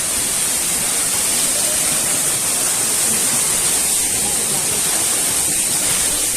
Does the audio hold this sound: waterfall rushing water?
yes